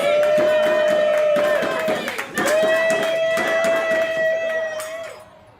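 A group watching election returns come in on the night of a local vote on Measure G, cheering and clapping together in a loud burst that tapers off, with a prominent sustained tone running through it.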